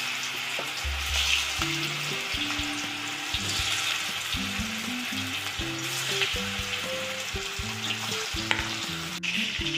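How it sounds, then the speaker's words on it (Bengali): Fish pieces frying in oil in a home kitchen, producing a continuous close-up sizzle with stirring and the crackle of pieces being turned in the pan. "বাকি মাছগুলো আমি সব ভেজে নেব"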